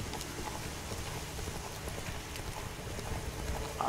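Horse hooves clip-clop steadily and evenly in The Witcher 3, a continuous walking rhythm heard moderately close against a constant ambient game background.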